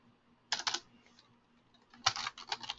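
Fingers tapping on a computer keyboard in two short bursts of quick, close keystrokes separated by a quiet pause.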